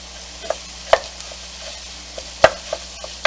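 Ground pork sausage browning without oil in a non-stick pan, with a utensil scraping and stirring it in sparse, sharp taps and scrapes over a faint sizzle.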